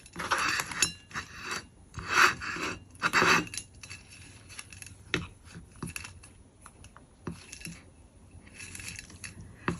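A ceramic plate being cut into shapes for jewellery and mosaics, with bursts of crunchy, glassy scraping and clinking, then sharper isolated snaps and chinks of breaking ceramic, close and fairly loud.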